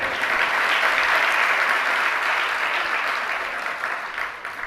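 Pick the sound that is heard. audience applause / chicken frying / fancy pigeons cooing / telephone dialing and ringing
audience applause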